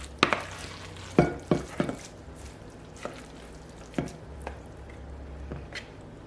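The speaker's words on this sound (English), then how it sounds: "we want to put 2 cups of the rice in the bottom of a casserole dish" Cooked brown rice spooned into a casserole dish, a series of soft, wet scoops and scrapes, several close together early on and then spaced out, with no talking.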